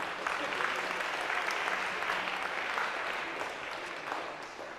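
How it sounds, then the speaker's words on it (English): Lecture hall audience at a university computer science class applauding, a fairly faint, steady wash of clapping heard from a distance for a few seconds with a hint of voices underneath. "round of applause, sure."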